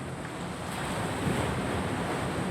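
Heavy ocean surf roaring steadily against rocks, a dense wash of crashing waves mixed with wind buffeting the microphone.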